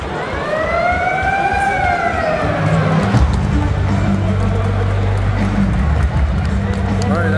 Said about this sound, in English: The end of period siren.